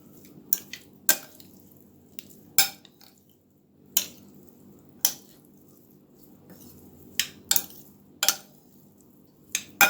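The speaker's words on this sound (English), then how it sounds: "I'm gonna mix this up a little so I can get the onion throughout." Potato salad with onion being stirred in a bowl: a spoon knocks the dish with irregular sharp clinks and scrapes, about a dozen close taps over a soft wet background, with no voices.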